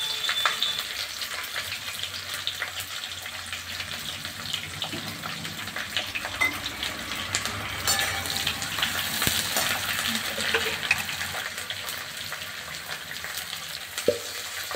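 Sliced onions sizzle in hot oil with cinnamon, cloves, dried red chilli and bay leaf as the base for a Bengali duck curry, a steady hissing fry with occasional scraping stirs, fairly faint and continuous.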